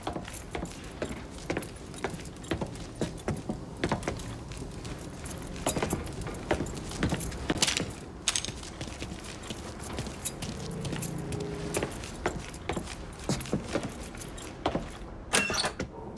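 Keys jangle and clink repeatedly in the Mafia 3 video game as they are picked up, a busy, close metallic rattling that continues throughout, with small mechanical clicks mixed in.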